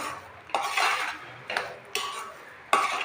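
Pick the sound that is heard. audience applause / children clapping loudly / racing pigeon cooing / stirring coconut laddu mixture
stirring coconut laddu mixture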